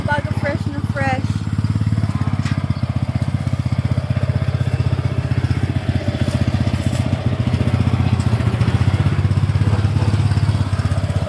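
A new Japanese-made Kawasaki 500 kg capacity farm tractor engine runs with a steady, rapid thumping chug close by, continuous throughout, while people talk over it.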